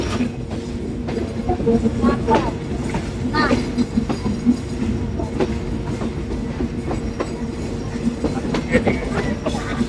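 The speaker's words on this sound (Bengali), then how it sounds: "এই যে গাইস, আমরা নাটোর রেল স্টেশনে ঢুকে পড়ছি।" The Rupsha Express rolls into Natore railway station, heard from on board as a continuous rumbling clatter with rhythmic wheel clicks and faint squeals, with voices murmuring in the background.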